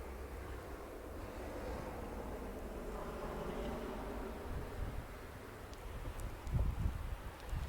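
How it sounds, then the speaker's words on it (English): Snowy wind gusts across a house roof in winter, a continuous breathy rush of moderate loudness with a few low thumps of wind against the microphone near the end. "the wind is starting to blow"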